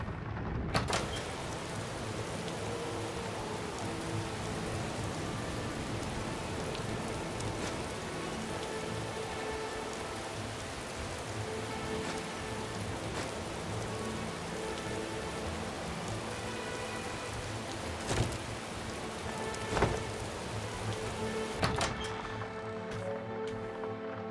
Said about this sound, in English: That's nice, you can hear the rain.